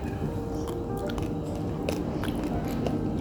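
Close crunching bites and chewing of Dubai pistachio chocolate with a creamy filling, soft crackly snaps repeating over a low, steady background hum.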